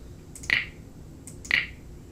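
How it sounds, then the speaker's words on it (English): A checkbox in a drum sequencer interface gives two short, crisp clicks about a second apart, close and clear over a faint background. "Each time I click the costume, the checkbox makes a clicking sound."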